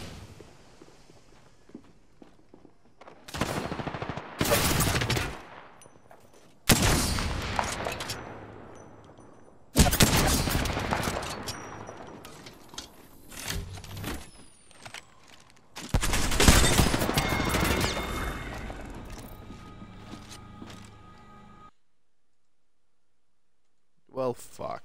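Gunfire in the battle royale shooter Apex Legends arrives in loud, sharp bursts: several clusters of shots separated by brief lulls, with quieter clicks and movement between them and near silence at the end.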